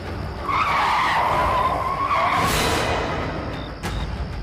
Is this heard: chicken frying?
no